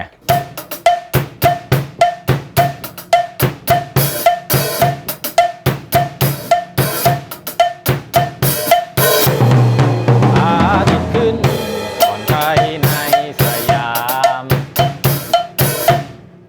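A drum kit plays a steady, driving Thai mor lam groove with crisp cowbell-like hits on every beat, briefly swelling into denser cymbal-heavy fills midway.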